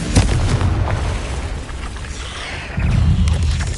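Booming blast from the Confringo spell in Hogwarts Legacy, a loud rumbling explosion with crackling debris that swells again near the end, dense and close.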